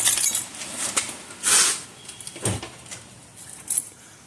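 Car keys for a Hyundai Santa Fe jangle in a few short, bright metallic bursts, with a brief clink and a soft knock between them, close by and without talk.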